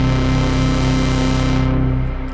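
Synth bass from a hardware synthesizer routed through a Zoom L6 mixer, a loud, sustained buzzy tone rich in harmonics that holds steady, then fades with its upper brightness dropping away near the end.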